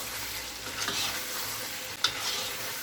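Chicken korma stirred in a pot after kewra water is added, a continuous sizzle with soft scraping from the spoon and one sharp clink of metal partway through.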